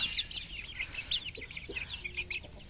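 Young chickens about 65 days old, clucking and chirping steadily while they feed, with a few soft pecking taps underneath, a close and moderate flock chatter with no voices.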